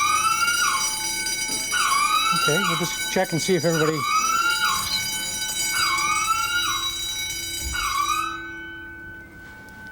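A fire alarm sounds continuously with rising, whooping electronic tones repeating about every second and a half, while a person speaks briefly over it before it cuts off.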